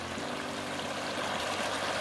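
River water rushes and burbles steadily at the Esquivel ford on the Garganta river near Jimena de la Frontera, a continuous close stream sound with no voices.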